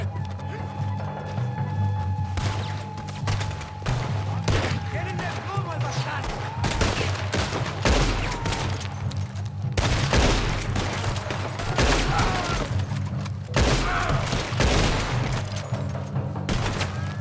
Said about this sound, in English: Straight into a gunfight.